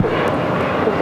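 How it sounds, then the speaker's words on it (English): A Spirit Airlines Airbus A320neo arriving from Detroit at LAX, its engines a loud, steady, broadband roar that fills the moment with no voices. "Spirit Aircraft coming in from Detroit,"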